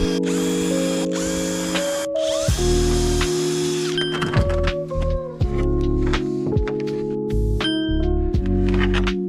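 A power drill drives screws into plywood while a car is fitted out as a camper van, loud close whining bursts that rise and drop in pitch, with short pauses and clicks between screws.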